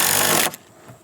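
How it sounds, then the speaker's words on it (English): A thickness planer shaves down poplar boards with a loud, dense roar that stops abruptly about halfway through, leaving quieter low rumbling. "we're using the planer to shave down one side of these pieces of poplar"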